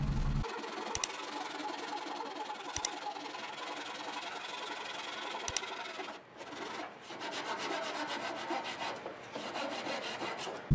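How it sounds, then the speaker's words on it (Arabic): A hand saw rasps back and forth through a wooden strip in steady, close strokes, with brief pauses and a few sharp knocks. "وبأي منشار هنقص السدابة بتاعتنا"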